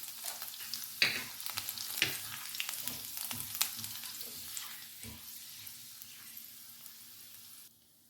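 Chopped green chilies frying in a pan for methi paneer bhurji, a soft steady sizzle with occasional stirring scrapes and clinks, gradually fading quieter toward the end.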